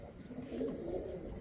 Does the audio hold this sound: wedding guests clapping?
no